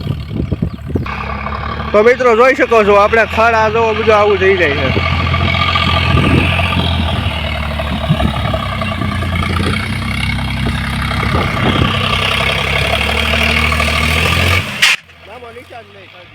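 A tractor engine runs and idles close by, a steady low rumble held under someone talking in Gujarati almost throughout, cutting off abruptly near the end.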